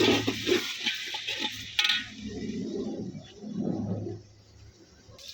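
Ginger and garlic sizzling and crackling in a pot over a wood-fired stove, a steady moderate frying hiss with occasional clinks of a utensil, no voices.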